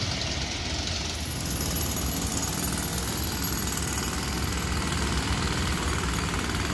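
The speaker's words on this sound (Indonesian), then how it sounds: "Di sisi timur ini nampak sedang melakukan penggalian untuk kastin atau material beton pembatas jalan." A jackhammer pounds steadily at a sidewalk construction site in East Jakarta, breaking ground to set concrete curbs; the rapid hammering runs continuously with engine rumble beneath and no voices.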